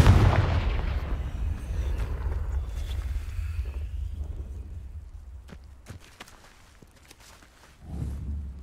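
A Confringo fire spell blasts off in Hogwarts Legacy: a loud, broad explosive burst with a low rumbling tail that fades over several seconds, followed by a few sharp clicks and a second lower swell near the end.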